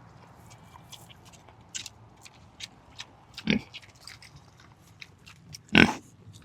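Pigs root and dig in garden soil, with soft snuffling, crunching and chewing sounds close by and two louder snorting grunts standing out against a quiet background.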